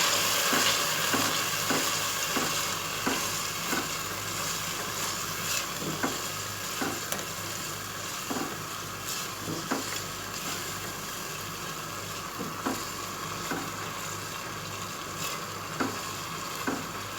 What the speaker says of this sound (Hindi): अब मैं चने की दाल डाल रही हूँ। ये 1 पाव चने की दाल है। हम इसको भी अच्छी तरह मसाले में भूनेंगे।